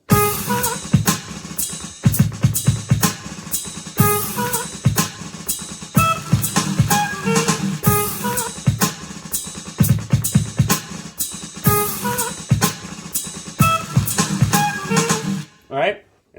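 A punchy drum beat loops steadily while chopped vocal-like samples are layered over it, ending with a brief cutoff.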